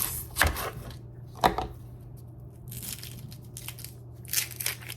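A knife chops onion on a cutting board in a home kitchen, a few sharp, separate cuts spaced apart with small crunchy bursts between them, close and fairly quiet with no talking.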